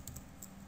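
A computer keyboard gives a few faint, quick keystroke clicks, three or four taps in under a second, against quiet room hum.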